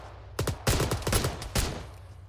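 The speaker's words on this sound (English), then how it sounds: "We're taking fire from the HMG" Bursts of heavy machine gun fire in Arma 3, several rapid volleys starting and stopping over two seconds, loud and close with a rough rhythmic crackle.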